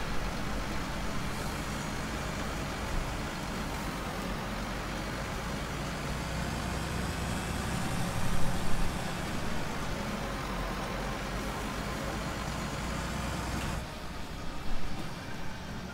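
Quiet, steady engine drone of a farm vehicle in Farming Simulator 19, a low even hum running the whole time with slight swells, no talking.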